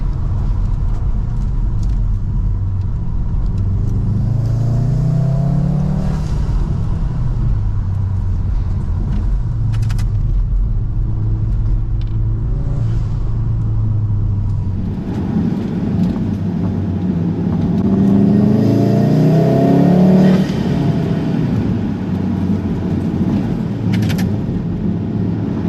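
A VW Golf R MK7.5 with 306 hp and a Racingline intake rumbles steadily while being driven. The engine drone rises and falls and swells louder toward the end, with no talking.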